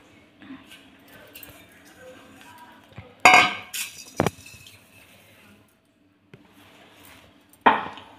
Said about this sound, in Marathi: आता आपण हे एका भांड्यात काढून घेऊया।